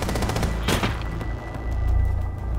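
Gunfire in Rainbow Six Siege, loud, close, rapid shots with one heavy burst near the start, then continued firing over low rumbling.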